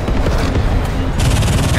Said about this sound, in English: Another missile.